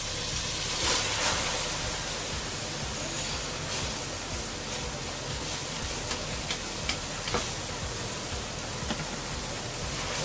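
Washed rice stirred and fried with spices in a pan for Bangladeshi khichuri, giving a steady close sizzle with scattered scraping ticks from the spoon, no talking.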